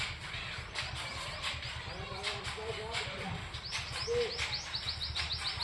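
Two baby birds in a nest give thin, high chirps and rising peeps, scattered and close by, mixed with a person speaking nearby.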